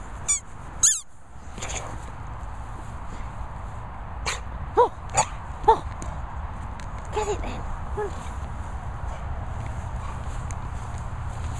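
A Staffordshire Bull Terrier squeaks a squeaky toy outdoors, giving several short, sharp squeaks in irregular bursts over a steady rumbling background with some shuffling footsteps.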